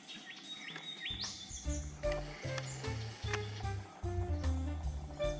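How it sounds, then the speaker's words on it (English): A Bassian thrush calling in lush bushland, a series of clear chirps and short whistled notes repeating at irregular intervals over soft ambient background, fairly close and moderately loud. "It's the Bassian thrush."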